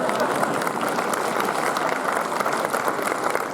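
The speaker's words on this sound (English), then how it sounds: "That deserves a round of applause, yeah, well done." Audience applause at a Marches Night event during Lanark Week, a steady wash of clapping that holds evenly throughout without a break.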